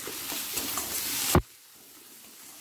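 Spices with Kashmiri chilli powder stirred in a hot pan for a pea curry, a dense sizzling scrape lasting just over a second before cutting off sharply into a quiet, faint hiss.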